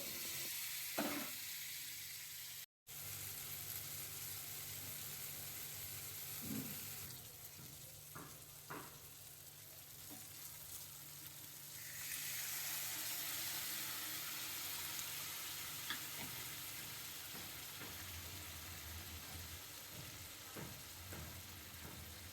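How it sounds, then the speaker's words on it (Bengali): Onions fry in oil in a kadai, with a continuous sizzle and scattered stirring clatter that turns brighter and louder partway through, and no talking. "এবার পেঁয়াজটা আমি ভালো করে ভেজে নেব লাল লাল করে"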